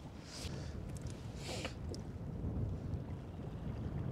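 Wind gusting steadily on an exposed coastal shoreline by an old power station, a broad low rumble buffeting the microphone with a few brighter gust bursts, no talk.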